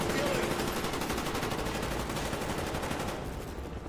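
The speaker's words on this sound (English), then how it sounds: "Reznov, what are you shooting at?" Automatic and rapid gunfire in the video game Call of Duty: Black Ops, a loud, dense, continuous burst of shots that carries on throughout and then fades slightly at the end, with no one speaking.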